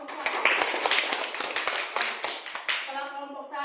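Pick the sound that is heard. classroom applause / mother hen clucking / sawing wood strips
classroom applause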